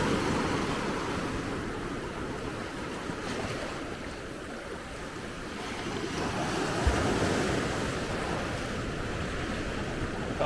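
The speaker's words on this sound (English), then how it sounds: "Need a big wave to come and" Ocean waves wash onto a rocky beach in Hergla, Tunisia, a constant broadband rush of surf swelling and easing, mixed with wind buffeting the microphone, with no talking.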